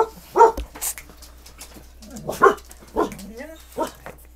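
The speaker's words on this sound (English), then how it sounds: "And my dogs have decided to make some noise" Dogs let out several short barks and yips at a close distance, scattered among speech from someone talking over them.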